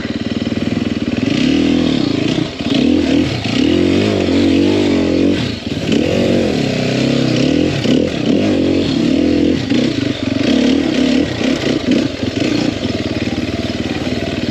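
Sherco 300SEF four-stroke dirt bike ridden off-road in first gear, its engine loud and close with a steady chugging note, throttle blips and brief dips, plus clattering and scraping over rough ground.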